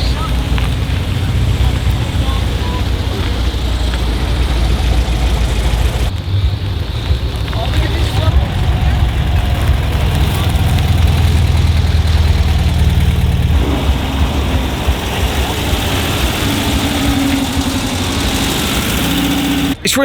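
A VW Fastback rolls into an Australian car show at idle, its air-cooled engine burbling steadily and fairly close amid outdoor wind noise, with slight shifts in tone as it moves past.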